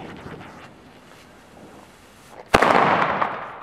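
A single sharp firecracker bang from a Helios Weco cracker goes off after a few seconds of windy outdoor quiet, followed by a crackling, hissing tail.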